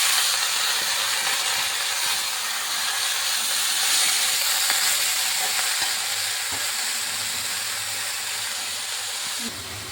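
Cabbage, capsicum and tomato fry in a pan with chilli and ginger, giving a steady, close, loud sizzling hiss that runs without a break for the whole stretch.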